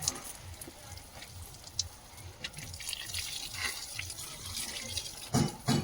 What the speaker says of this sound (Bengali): আর মাটিটায় জল দিয়ে দিই, নরম হয়ে যাবে